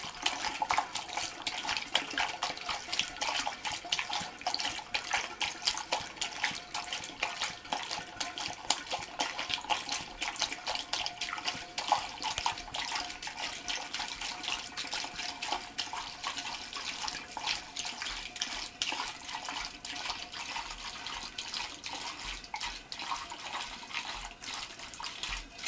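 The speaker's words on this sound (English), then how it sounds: "And you see there's no foam in right now when I'm pouring." Homemade kit wine pours steadily from one jug into another in a long, continuous liquid stream, a close, even splashing gurgle without pauses.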